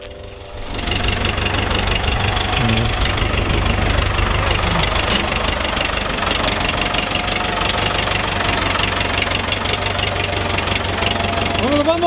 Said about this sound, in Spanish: Ahí viene alguien para fuera del rancho con un tractor.